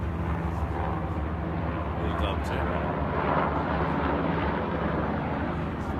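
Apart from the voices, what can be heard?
airplane flying overhead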